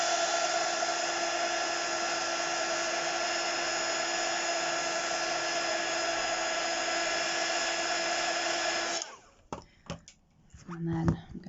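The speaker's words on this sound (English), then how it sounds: "all you do is reheat it, and it will, the embossing powder will flow again." A heat tool blows a loud, steady whine for about nine seconds as it reheats embossing powder on cereal-box cardboard faux metal cogs, then cuts off, leaving a few faint handling knocks.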